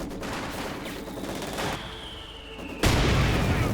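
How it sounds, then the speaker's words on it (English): A mortar round explodes in the Company of Heroes 2 video game, a loud burst of game gunfire and battle noise that jumps sharply louder near the end, with no voices over it. "Nice hit there from a mortar round, almost wiping out the entire MT crew."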